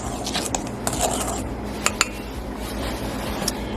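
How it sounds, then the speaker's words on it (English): Dry scone ingredients with baking powder being mixed in a bowl, a soft steady scraping and rubbing with a few sharp clinks of a utensil against the bowl, close and alone. "We're just going to mix the dry ingredients up"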